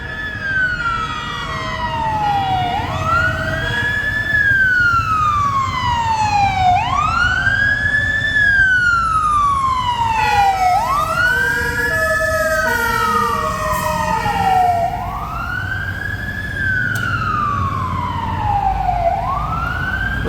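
A fire truck's siren in Benidorm, Spain, wailing in repeated rising and falling sweeps, loud and steady over a rumble of traffic, with no voices.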